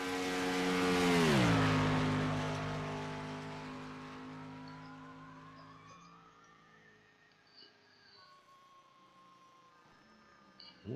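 A race car at Daytona International Speedway swells into a loud, close engine pass that drops in pitch as it goes by, then fades into a distant, thinner whine from other cars around the track.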